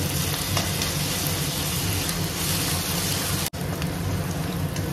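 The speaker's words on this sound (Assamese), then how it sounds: "এইখিনি অকণমান ভাজি লওঁ কেঁচা গোন্ধটো ওলোৱালৈকে" Crushed ginger, garlic, chili and onion fry in hot oil in a pan for a homemade Assamese-style lobia dish, giving a steady, close sizzle that is unbroken except for one brief dropout.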